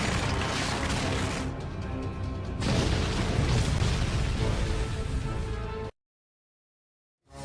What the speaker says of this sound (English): the beams erupted into a huge magical explosion